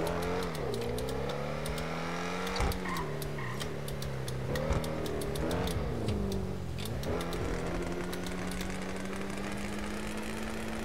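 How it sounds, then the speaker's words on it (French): Car engine and exhaust in the video game GTA, a continuous revving drone that rises and falls through gear changes, with faint ticking and clicks over it and no talk. "Ah, elle fait un bruit cette bagnole."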